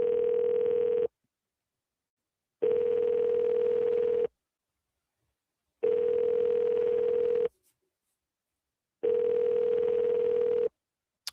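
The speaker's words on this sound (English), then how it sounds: "For a collect call, press 0. Please hold." A telephone line hold tone during a collect call sounds in four evenly spaced steady beeps, each lasting about a second and a half and separated by silent gaps.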